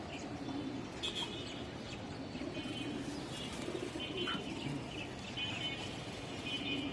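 Pigeons at close range with soft coos, light chirps and occasional wing flutters over a steady background bustle, fairly quiet throughout.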